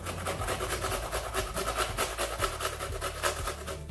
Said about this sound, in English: So I'm also going to grate some onion into my mix.